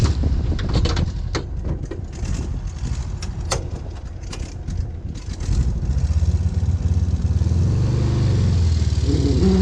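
A Volkswagen Kübelwagen driven along, its engine giving a steady, close rumble with rattling and clatter that thickens into a heavier low drone during the last few seconds. No voices.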